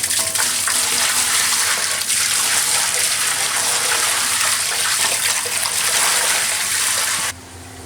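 Water gushes steadily and loudly into a bucket of white vinegar, a dense, continuous pouring rush that cuts off abruptly near the end.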